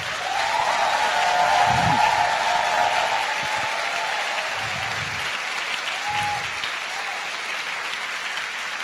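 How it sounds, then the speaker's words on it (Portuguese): Congregation applauding during a church service, a steady wash of clapping that is fullest early and eases slightly toward the end, with a faint tone and brief murmurs underneath. "Vocês podem aplaudir o Senhor pela vida desse casal?"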